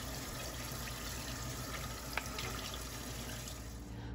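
Jasmine rice being rinsed under a running kitchen tap, a steady, soft wash of flowing water into a bowl or sink with a faint splash midway, alone and fairly quiet.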